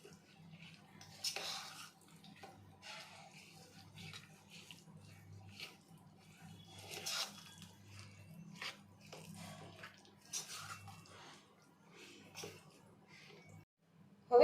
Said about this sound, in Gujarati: ચમચીની મદદથી ચલાવી લેશું હવે